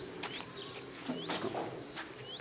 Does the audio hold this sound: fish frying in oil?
no